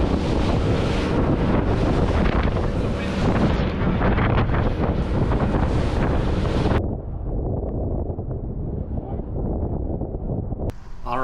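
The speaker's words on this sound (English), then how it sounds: "Wind has definitely picked up." Strong sea wind roars across the microphone in a steady, loud rush on a boat near Great Harbour Cay, Bahamas, easing into a lower, calmer wind noise after about two-thirds of the way through before a brief burst at the end.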